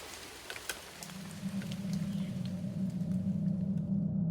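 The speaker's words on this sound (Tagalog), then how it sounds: "lumakas pang lalo ang ulan" Heavy rain pouring during a storm over a flooding village, a steady dense wash of patter with a low rumbling undertone that swells and stays strong throughout, no voices.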